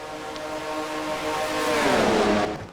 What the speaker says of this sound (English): That's why you hear the strange exhaust sound,